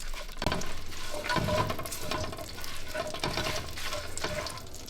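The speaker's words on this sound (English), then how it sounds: "See how the mustard seed's starting to pop? We want to make sure it pops, sizzling." Crackling, spitting sizzle of mustard seeds in a hot pan with small popping bursts, close by and continuous, with no talking.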